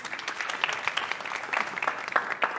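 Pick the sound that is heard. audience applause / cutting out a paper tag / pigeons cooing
audience applause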